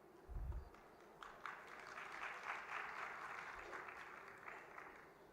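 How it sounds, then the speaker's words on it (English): A seated audience applauds during a felicitation at a spiritual gathering: a soft start with a low thump, then a fairly quiet, steady patter of many hands clapping that continues evenly at a distance. "Amidst our round of applause"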